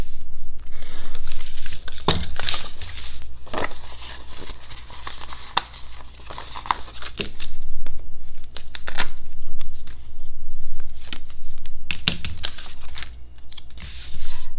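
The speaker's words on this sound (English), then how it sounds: "let me go ahead and trim some of these." Scissors trim floral planner stickers for a pink poinsettia Christmas spread, with repeated close snips and crinkly paper handling scattered through a steady background.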